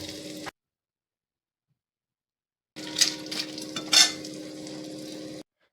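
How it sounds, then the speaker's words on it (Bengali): Cashews and raisins fry in a wok with a steady sizzle and scraping stirs of a utensil against the pan, heard in two separate bursts with silence between. "কাজু কিশমিশ একসাথে সব ভেজে নিতে হবে একটু করে।"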